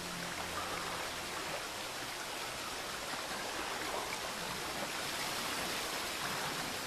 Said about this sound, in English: Okay, there's water.